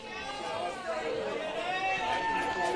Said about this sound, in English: A decent crowd, and as you can hear here at Valley Road today